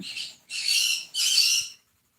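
Two or three loud, harsh bird squawks in quick succession, close by, with no talking.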